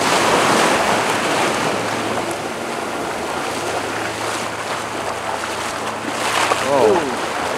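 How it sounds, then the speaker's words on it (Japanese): Sea waves surge and roar continuously along a shore of a small island near Zamami at night, loud and close, with heavy wind buffeting the microphone. "もう波も強い。"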